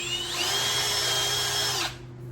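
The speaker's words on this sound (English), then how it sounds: "We'll just bump this one with a unibit." A power drill with a unibit step bit bores a hole on a 1988 Club Car DS golf cart, a loud whining spin of under two seconds before it winds down, leaving a low background hum.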